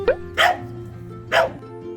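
Three pet dogs bark as they rush over, with two or three sharp, close barks spaced apart and an indoor hum underneath.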